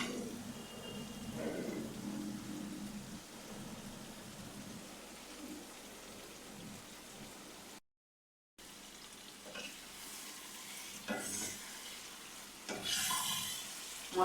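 Fried chicken pieces stirred into masala in a pan for a Bengali-style Chicken Changezi, a soft steady sizzle with occasional scraping of the spoon, fairly quiet, with a brief gap partway through.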